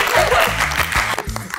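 A studio audience at a parenting talk show breaks into applause mixed with laughter, loud and continuous, while a female presenter's voice carries over it.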